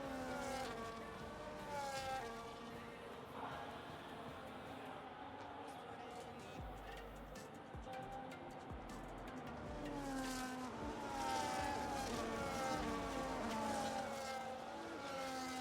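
Race cars at Qatar circle under a safety car, engines droning and buzzing as they pass in waves, rising and falling in pitch, with occasional tyre noise; a commentator talks over the steady mid-distance engine hum.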